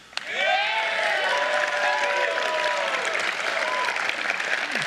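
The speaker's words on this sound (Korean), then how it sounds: "지금 박수 치는 사람들은 오토모빌계에서 온 대통령을 엄청 지지하는 그런 한 20분쯤 왔다고 하더군요" An audience of supporters applauds a presidential speech announcing a 25% tariff on foreign-made automobiles, with loud sustained clapping, cheers and whistles starting abruptly and continuing steadily.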